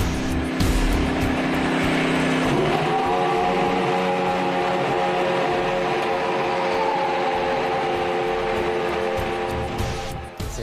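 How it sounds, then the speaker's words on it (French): A 2017 Force India Formula 1 car with a Mercedes engine roars loudly nearby, its pitch stepping up sharply and then holding a sustained high whine before fading at the end. "Esteban Ocon fait rugir sa Force India pour la première fois"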